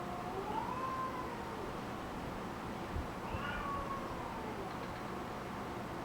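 Two house cats meow back and forth at each other, producing drawn-out wavering calls that rise and fall over about six seconds, fairly faint against a steady background hum.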